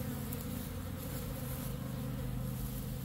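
A ten-pound swarm of honey bees buzzes as a dense, continuous drone, close and loud, with no voices over it.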